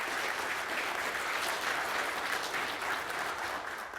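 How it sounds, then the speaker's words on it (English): A press-conference crowd in Pike County gives a round of applause for the county health department, a dense, even clapping sustained at moderate loudness for several seconds with no voices over it. "Let's give them a round of applause."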